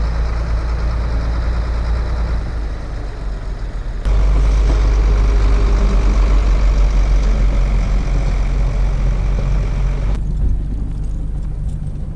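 A snow-clearing truck works the snowy road up to Khardung La, its heavy diesel engine droning loud and close at a steady rumble. The sound grows stronger partway through and then eases off, with no talking.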